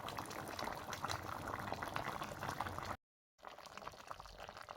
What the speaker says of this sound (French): on laisse la sauce cuire toujours à feu moyen